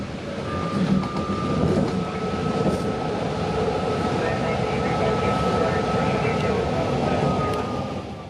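A BART train rolls into Bayfair station with a steady, loud rumble of wheels and motors, a faint whine running through it and a voice speaking over the noise.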